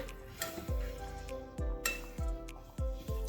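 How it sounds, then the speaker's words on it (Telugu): Pasta being stirred in a cooking pot, with a few clinks and scrapes of a spoon against the metal over a low background hum, no talking. "ఇలా పాస్తాని వేసేసిన తర్వాత ఒకసారి దీన్ని కలుపుకోవాలి."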